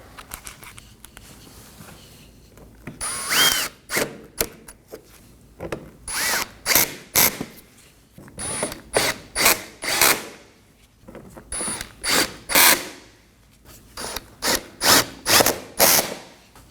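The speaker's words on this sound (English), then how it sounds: "Reinstall your screws and just snug them down." A power driver tightens screws on a 2015-2023 Nissan Maxima fog light area, several loud close whirring bursts of varying length separated by short pauses.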